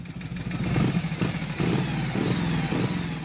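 A Harley-Davidson Electra Glide Shovelhead motorcycle with a roughly 1300 cc two-cylinder V-twin engine, idling close by with a lumpy, uneven low rumble and loping pulses, steady and alone.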